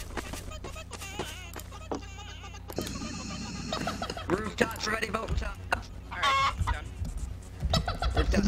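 Many chickens cluck in a noisy, busy mix with scattered clattering sounds, and voices talk at times over the flock.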